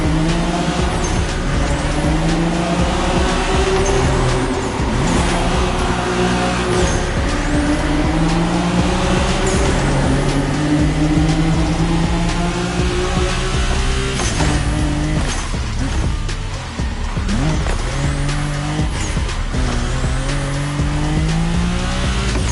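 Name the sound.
car drifting with tire squeal in video game The Crew Motorfest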